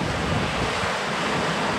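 Gusting wind from the edge of a squall roars across the microphone while waves wash against a sailboat at sea, a loud continuous rushing noise with no talk.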